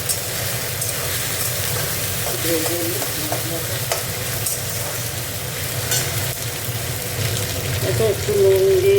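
Ginger-garlic paste frying in oil for a fish curry, a steady close sizzle with stirring scrapes running throughout, fairly loud, with a brief brighter tone near the end.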